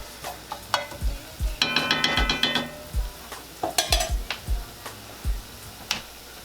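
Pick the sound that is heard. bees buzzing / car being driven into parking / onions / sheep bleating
onions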